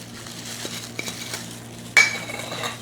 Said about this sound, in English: Now you see I've kind of mixed up the red food color into the sugar.